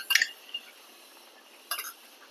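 A metal spoon clinks and scrapes in a pot of chicken biryani masala with salt and green chilli paste, two short bright bursts of clatter with a quiet gap between them.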